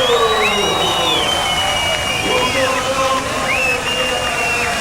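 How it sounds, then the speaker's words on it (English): A crowd cheering at the final of a surfing contest, a steady, loud roar of voices and whistles with rising whoops, distant and continuous throughout. "you can hear the crowd"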